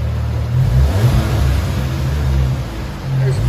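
A 2021 VW GLI with a 2.0 turbo engine and straight pipe exhaust revs nearby, a loud, deep throaty drone that swells and dips over a few seconds.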